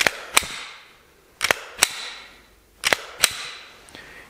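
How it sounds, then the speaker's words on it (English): A pistol with no magazine and an empty chamber is dry-fired and handled, giving pairs of sharp metallic clicks and snaps spaced about a second apart, close and crisp in a quiet room. "Here is a no mag in the gun, unchambered pistol sound."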